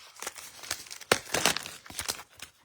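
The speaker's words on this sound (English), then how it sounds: "this is one of the reasons you need scissors, so that you can get it open." Scissors snip and rip open a craft kit's packaging, a close run of crinkling, tearing bursts with one sharp crack partway through, no talking.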